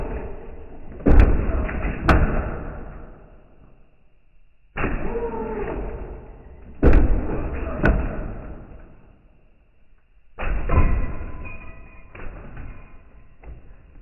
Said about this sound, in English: she'll bang bumper hard enough to lift them back wheels off the ground as she hops